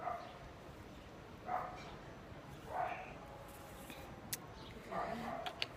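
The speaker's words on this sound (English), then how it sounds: "Oh, I wish that dog would stop barking." A distant dog keeps barking outside during a makeup session, three or four faint separate barks spread across a quiet room tone.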